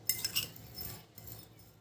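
Spoon clinking against a bowl while fenugreek seeds are stirred together with two other ingredients, a few quick scraping taps near the start, then softer stirring, close and quiet.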